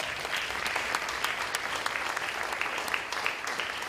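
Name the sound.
applause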